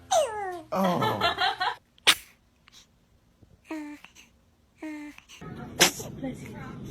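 A newborn baby sneezes twice in short, sharp bursts, heard close between squeaky coos and little cries, with an adult voice speaking softly nearby.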